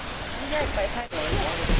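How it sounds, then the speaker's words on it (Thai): Steady rushing water from an artificial waterfall at Wat Tham Pha Daen temple fills the scene, a broad constant wash with a brief dip, while faint voices murmur underneath. "ได้ยินเสียงน้ำตกจำลองนะคะ"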